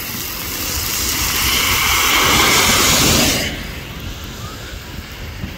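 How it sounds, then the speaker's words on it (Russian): Heavy tropical rain pours in Vladivostok as a loud, broad roaring wash that swells over three seconds, then drops suddenly to a quieter, steady patter. "Опять дождь усиливается."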